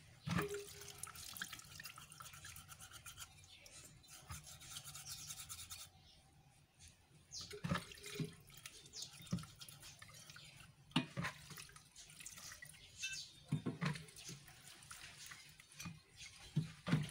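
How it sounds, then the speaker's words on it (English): Fuel splashing and dripping with scrubbing and brushing sounds as a small two-stroke generator's engine block is washed, quiet and close, in irregular bursts with brief pauses between. "So now, we now wash the engine block."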